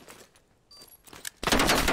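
Bursts of AK rifle fire in a PS5 shooter game, a dense rapid volley that erupts loudly in the final half second after quieter game ambience.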